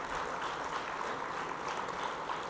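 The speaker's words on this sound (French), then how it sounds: "il mérite une bonne main d'applaudissements" Delegates at a political party congress give steady, fairly faint applause, an even patter of clapping heard from a distance without voices.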